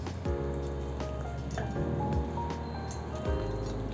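Peanut udon noodles being stirred and tossed with sauce in a bowl, giving soft wet squishing and squelching sounds in an irregular rhythm, close and fairly quiet, with no speech.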